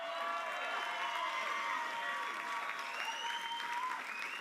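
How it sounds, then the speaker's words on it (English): Audience applause at a Miss Island Queen pageant fundraising evening, a steady dense clapping from a crowd with some cheering mixed in, sustained and fairly even throughout. "Give yourself a round of applause."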